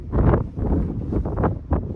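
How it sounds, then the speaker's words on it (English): Gusts of wind buffet the microphone in rough, low rumbling bursts, rising and easing several times over a couple of seconds. "it's windy up here"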